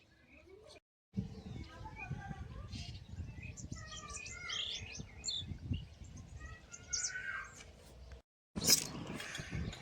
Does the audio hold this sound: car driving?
no